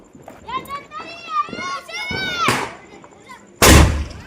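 A Surat-made 'twelve bangs' firecracker goes off with just one loud, sharp bang near the end, preceded by a smaller burst, with people talking before it.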